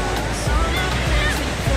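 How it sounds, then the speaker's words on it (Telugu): Ocean waves surge and break at Yarada Beach in Vizag, a continuous close wash of surf with a few stronger crashes rising through the roar. "బీచ్ కూడా ఇప్పుడు అలలు బాగా పెరిగాయి"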